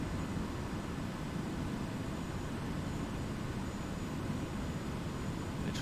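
A Kodiak 100 bush plane's engine idling on final approach in Papua New Guinea, a steady broadband rumble and rushing noise from inside the cabin, constant and unbroken, with no talking.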